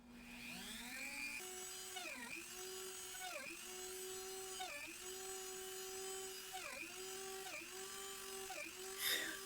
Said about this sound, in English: Now we can go over to the drill press and drill the holes out.